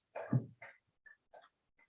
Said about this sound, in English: my dog is drinking water right behind me